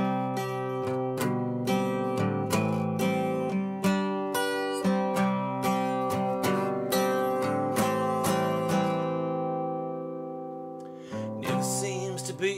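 Live acoustic guitar opening a song, strummed chords ringing steadily and close, with rhythmic strokes and a brief pause before strumming resumes.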